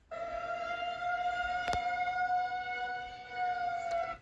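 Missouri's emergency alert system alarm plays a steady, loud electronic siren with layered sustained tones that holds unbroken for several seconds, with a couple of brief clicks along the way.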